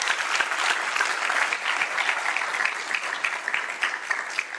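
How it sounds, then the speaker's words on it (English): A lecture hall audience at an economics conference claps in dense, sustained applause that stays steady and loud for the whole stretch, with no voices over it. "So let's give a big round of applause to Professor Rey."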